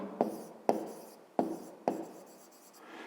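Pen or chalk strokes marking the sides of a pentagon for a fifth-grade geometry exercise: four sharp taps, each trailing into a short scratchy stroke, spaced about half a second apart, close and fairly quiet, with no talking.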